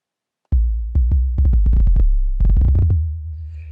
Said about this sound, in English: I grabbed a kick drum sound.